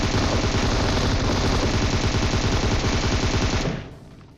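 Sustained M249 machine-gun fire in the PUBG Mobile video game sounds as a dense, loud, rapid unbroken burst lasting several seconds, then stops suddenly into quieter game ambience.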